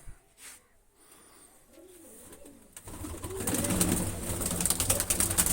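Soft pigeon coos rise at the start, then grow into a denser, louder flutter of many birds with wingbeats and rustling in their coops. No one speaks.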